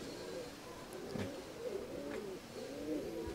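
Pigeons coo softly in a loft, with low repeated throaty calls and light rustling, fairly faint and without talk.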